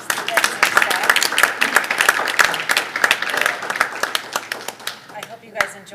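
Hearty audience applause for students and staff at a school board of education meeting, dense clapping from a crowd that gradually thins and tapers off, with some voices mixed in.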